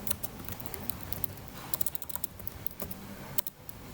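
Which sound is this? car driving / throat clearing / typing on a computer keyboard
typing on a computer keyboard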